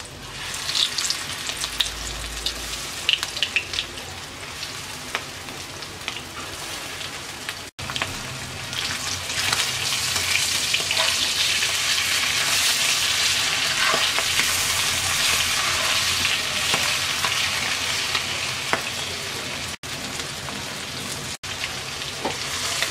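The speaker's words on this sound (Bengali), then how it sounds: "তেলটা গরম হয়ে গেছে, মাছ দিয়ে দিচ্ছি।" Hilsa fish frying in hot mustard oil, a steady loud sizzle with crackling spatter that swells after the fish goes in and continues throughout, with no talking.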